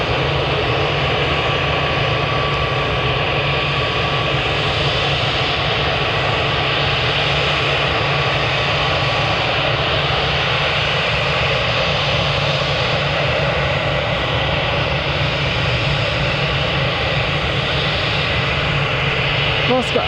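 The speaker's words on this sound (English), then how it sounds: "Just behind this aircraft we've got a Jet2 Airbus A321neo going" A Jet2 Airbus A321neo taking off at Manchester Airport gives a loud, steady jet engine roar that fills the scene throughout, with airport ambience around it.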